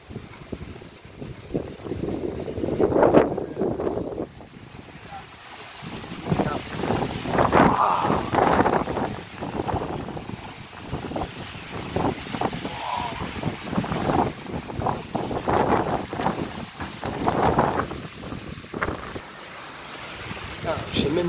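Strong wind gusts during a summer thunderstorm in Meyzieu, France, roaring and buffeting the microphone in surging waves, with a voice speaking over the blustery noise.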